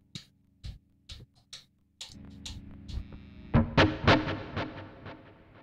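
Electric guitar run through a Richie Kotzen Fly Rig with reverb and a touch of extra drive: a few sparse plucked notes, then a burst of distorted chords ringing out with a reverb tail, played close and fairly loud.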